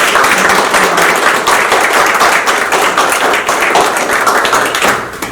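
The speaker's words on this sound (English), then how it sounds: "I think we can all give a huge round of applause" Loud, close audience applause wraps up a community health presentation event, dense continuous clapping filling the room for the whole stretch and easing only slightly at the end.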